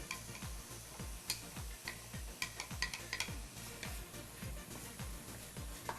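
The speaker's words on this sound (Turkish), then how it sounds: "Kavrulan kıymamızın içine sarımsak ve soğanlarımızı şöyle bir ilave yapalım" Minced meat fries in a pan with garlic and onions for karnıyarık, stirred with a steady run of clacking, scraping strokes over a faint sizzle. Close and regular, with no talking.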